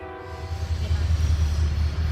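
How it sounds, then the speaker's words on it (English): A Rocky Mountaineer passenger train rumbles past close by at Porteau Cove, giving a heavy, rolling low roar with a faint tonal hum fading at the start. "Passenger train."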